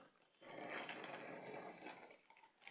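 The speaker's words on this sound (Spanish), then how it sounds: "voy a llenar la bolsa de un poco de agua" Water is poured into a plastic bag, a soft steady splashing gush that swells for about two seconds and then tapers off, quiet and with no talking.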